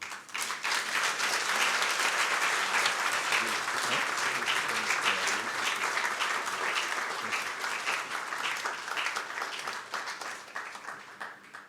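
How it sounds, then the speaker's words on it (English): A large audience applauds steadily and loudly after a farewell tribute speech at a memorial event, dense clapping sustained throughout with only a slight fade near the end. "Please give them a big round of applause, ladies and gentlemen"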